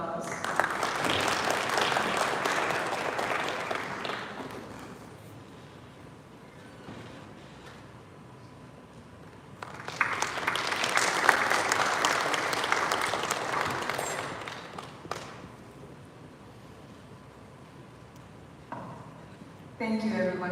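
Audience applause at a shield presentation during a National Bonds investment event in Dubai: two long bursts of steady crowd clapping, each lasting several seconds and separated by a quieter gap.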